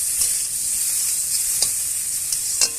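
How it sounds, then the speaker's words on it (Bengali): Tomato with chili powder sautés in a pan for a mourola fish curry: a bright, continuous sizzle marked by a few quick spatula scrapes, with no speech. "একটা টমেটো দিয়ে ভালোভাবে আমি কষিয়ে নিচ্ছি"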